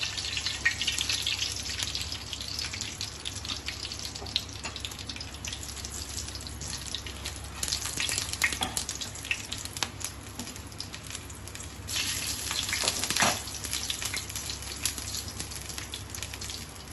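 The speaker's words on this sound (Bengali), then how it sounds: "প্রথমে ফোড়নে দিলাম তেজপাতা আর গোটা গরম মশলা।" Bay leaves and whole garam masala spices sizzle steadily in hot oil in a wok, a continuous close crackling hiss with brief louder spurts, no voices.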